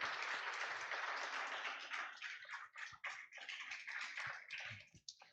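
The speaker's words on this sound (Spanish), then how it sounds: "Dale un aplauso al Señor, porque eso es lo que quiere en nuestros hogares" A congregation applauds during a church service, a brisk rush of clapping that thins and breaks into scattered claps toward the end, moderately distant and fairly quiet.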